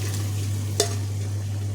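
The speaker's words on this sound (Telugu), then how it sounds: "మటన్ ఫ్రై చేస్తానండి కుక్కర్లో." Mutton fries in oil inside a pressure cooker: a constant dense sizzle over a steady low hum, with a single sharp click of a utensil midway.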